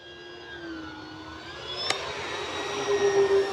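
A 1.2 m E-flite T-28 Trojan V2 electric RC model plane runs on a 3S battery with take-off flaps set, its thin motor whine holding steady and then swelling louder as it passes overhead outdoors.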